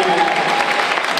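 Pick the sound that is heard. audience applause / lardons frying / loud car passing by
audience applause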